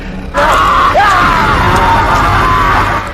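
A man in a film lets out a loud, sustained scream that starts abruptly and holds for a few seconds before trailing off.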